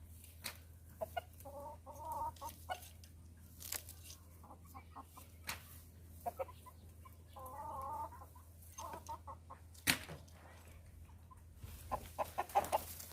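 A sick rooster makes short, repeated clucking hiccup-like calls at intervals, close and fairly quiet, over a steady low background hum.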